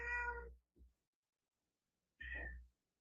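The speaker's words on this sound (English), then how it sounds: "Can y'all hear him meowing?" A cat meows loudly and close, two drawn-out calls with a short chirp between, separated by quiet; no one talks over them.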